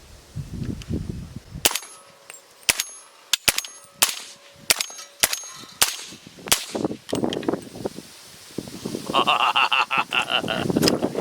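A suppressed 300 Blackout PSA JAKL rifle firing subsonic rounds outdoors: a series of sharp, cracking reports and metallic clacks spaced about a second apart, followed by rustling, wind noise and a brief voice toward the end.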